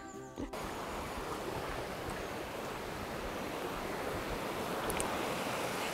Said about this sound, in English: So here we are on the site of Canon's rather noisy cascade.